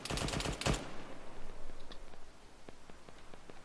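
Gunfire in a military video game: a rapid automatic burst of close shots in the first second, then a few faint distant single shots over a low background rumble.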